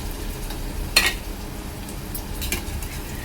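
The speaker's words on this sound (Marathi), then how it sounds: "आता हे चांगलं 5 मिनिटं परतून घ्यायचं आहे" Onion with ginger-garlic paste sautés in a pan for a drumstick and potato masala, a soft continuous sizzle broken by two sharp spatula scrapes against the pan.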